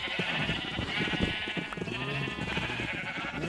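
Sheep in Minecraft bleat repeatedly over a continuous busy layer of game sounds, the wavering animal calls overlapping and fairly loud with no break through the stretch.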